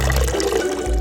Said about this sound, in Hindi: आपके कपड़े में पानी कैसे गिर रहा है?